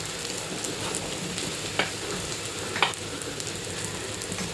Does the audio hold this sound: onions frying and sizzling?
yes